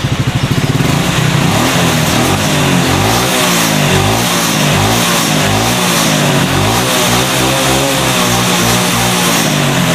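A motorcycle engine roars loudly and steadily up close, throttle blipped repeatedly in a rough, pulsing rev with no talking, after sputtering from running out of fuel.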